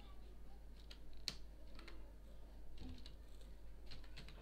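Light, scattered keystrokes tap on a computer keyboard in quiet, uneven bursts, faint clicks with short pauses between them and a low steady hum underneath.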